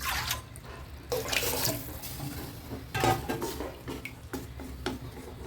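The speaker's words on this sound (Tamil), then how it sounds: "தேவை கொஞ்சமாக தண்ணி ஊற்றிக்கணும்" Water splashes and trickles into a pot of onion rasam, with soft clatters of metal and bursts of running water at a moderate distance.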